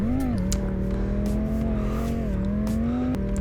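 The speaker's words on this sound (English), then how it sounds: "And I can even drift in this game. Sure, all the assists are on, and the tire skid mark sound effect isn't the best" A drifting car in the Rigs of Rods driving game makes a continuous tonal tire-skid squeal over a steady engine drone, with the pitch wavering slightly as the slide goes on.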